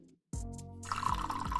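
Coffee poured into a cup, a steady close liquid stream with rising gurgle as the cup fills, following a brief quiet moment.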